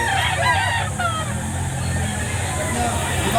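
Chickens and a rooster at a Saturday poultry market in Lipa City, Batangas, with repeated crowing and clucking over a steady babble of nearby voices and market hubbub.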